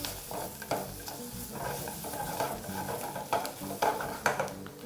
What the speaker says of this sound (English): Proceed to mix everything together once more.